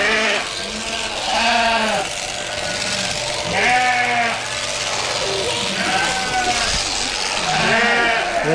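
Sheep bleat loudly and repeatedly on a farm shearing day, with several separate calls coming every couple of seconds close by, over a low background of activity.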